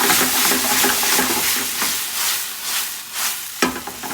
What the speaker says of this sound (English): next we are going to add our white wine deglazed